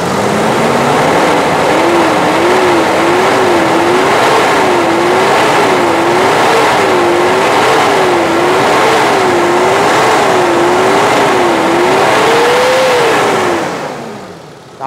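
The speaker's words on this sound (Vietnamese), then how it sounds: "Anh em xiết ga lên máy nổ rất là giòn" The engine of a 2004 car revs under throttle with the hood open, a loud, close, continuous roar that swells and falls in a regular wavering rhythm for about fourteen seconds before cutting off.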